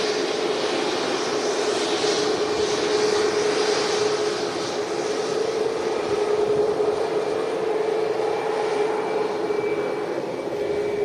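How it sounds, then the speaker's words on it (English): A Ryanair Boeing 737 MAX airliner comes in to land at Manchester Airport. Its engines give a loud, continuous roar with a steady droning whine that holds evenly throughout, and no voices are heard. "That's Ryanair Max coming in."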